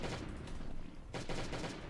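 Automatic gunfire in the Last Day on Earth survival game, rapid bursts of shots at modest level, with a pause before a fresh burst.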